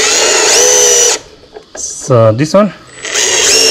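A power drill drives a self-tapping screw into a plastic trimmer housing during an edger conversion from two-stroke to four-stroke, whining loudly in two long bursts around a short spoken remark.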